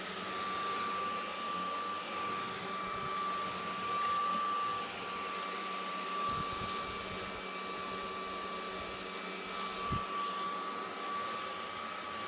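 A Honiture S13 cordless vacuum cleaner runs on a workshop bench, giving a steady close motor whine with a sharp tonal hum and occasional low thumps and rattles as it sucks up dust and debris.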